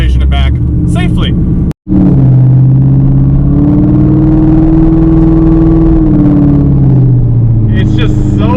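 A loud car engine revs, its deep throaty drone swelling and falling for several seconds, with a voice talking briefly before and after the revs.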